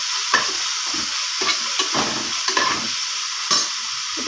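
Coriander and mint leaves sautéing in a pan for a lentil rice dish, a steady sizzle broken by several clattering stirs of a spoon against the pan, close and moderately loud, with no talk.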